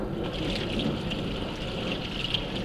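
Water pours into a camp water storage container, a soft steady gushing and splashing heard close and fairly quiet, continuous for a few seconds without any talking.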